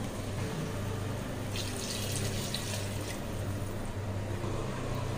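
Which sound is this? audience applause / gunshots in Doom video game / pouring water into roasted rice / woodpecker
pouring water into roasted rice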